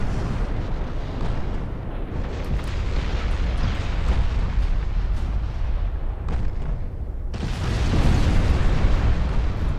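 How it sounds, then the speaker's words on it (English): Twelve-inch battleship main guns fire in a naval video game, making a dense, continuous roar of heavy booms and rumbling blasts that swells louder near the end. "12-inch guns are so good"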